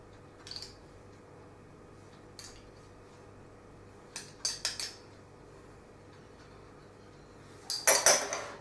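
Spoon and dish clinks while light sour cream is added to a homemade burrito, a few scattered soft taps and scrapes at close range, ending in a brief cluster of clatter against a quiet background.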